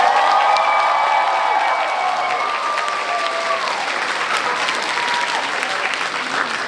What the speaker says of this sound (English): Let's give a round of applause for the graduates.